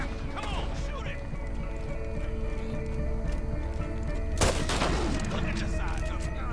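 Scattered gunshots ring out in Red Dead Redemption 2 over a steady droning background with horse hooves, including one sharp, loud crack near the middle followed by echoing reports, with faint voices mixed in.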